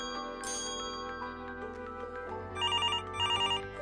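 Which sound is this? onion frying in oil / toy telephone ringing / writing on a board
toy telephone ringing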